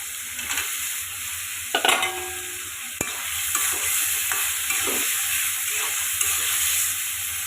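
Potatoes and spices frying in a pan as tomato goes in, a steady close sizzle and hiss with a few scraping stirs and utensil knocks, no voices.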